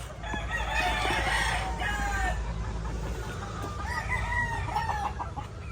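Sabong Pinas gamefowl hens clucking, with close, continuous bursts of clucks and calls over a low steady rumble, fairly loud throughout.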